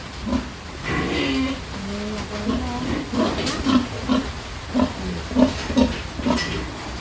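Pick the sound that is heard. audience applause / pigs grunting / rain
pigs grunting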